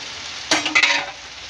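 Finely chopped tomatoes, about 1.5 kg for baingan bharta, hit a hot pan and are stirred, giving a short close burst of sizzling and scraping that quickly fades.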